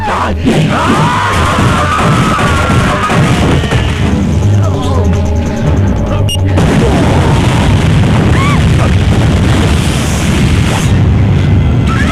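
A bomb blast in an Indian film scene booms loudly within a dense, loud soundtrack mix of crowd shouting and music, with a sharp burst midway.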